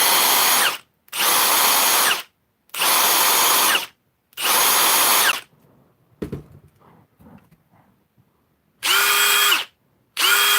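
Milwaukee brushless impact driver running in loud bursts, four long whirring runs, then a quiet stretch with small knocks and handling noise, then two more runs near the end, alone without speech.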